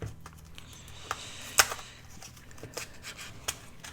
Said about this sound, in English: show you how to do your staples, like you don't know how to load a staple gun